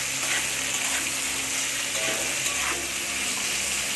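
Chicken being stirred in a pan with ginger paste, garlic paste, chopped onion and tomato, giving a steady close sizzle with scraping and clattering of the spoon throughout, no voices.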